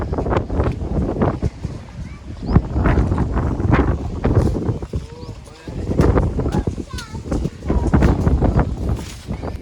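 Strong gusting wind buffets the microphone on a rooftop on the day before the Uttarayan kite festival, roaring in heavy surges and lulls while people talk close by.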